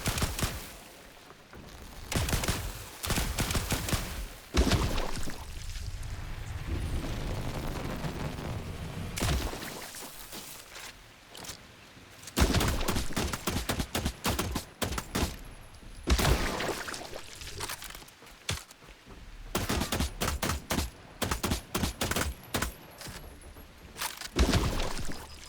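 Video game gunfire comes in loud rapid bursts, separated by quieter stretches of rumble and background game noise.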